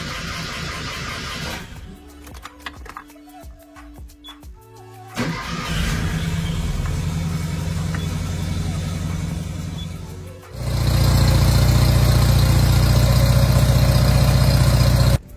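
A small car with a two-cylinder petrol engine cranks with clicks, then catches and idles with a rough, throaty putter before revving louder and holding a steady drone.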